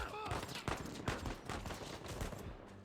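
Rapid gunfire erupts in Uncharted 4: A Thief's End on PS5, with dense overlapping shots and bursts that sound close and loud throughout.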